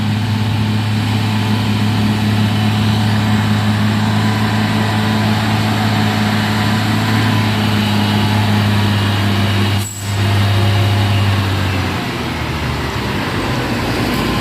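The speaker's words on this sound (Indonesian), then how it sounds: "Kasihan sekali truknya, sampai bunyi-bunyi." A Mitsubishi Fuso truck's 190 PS engine labors on an uphill climb, a steady loud droning hum with a strong low tone that drops off near the end amid roadway noise.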